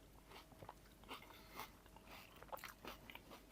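Cornflakes are crunched and chewed up close, giving soft irregular crackling bites scattered through the clip at low volume, with no talking.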